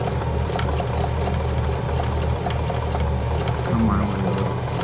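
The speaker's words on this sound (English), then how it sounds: "sew it together, and hopefully it works better." A sewing machine stitches a custom seat cover for a Chevy C10 Squarebody bench seat, a steady, close, continuous mechanical whir running the whole time with faint ticks over it.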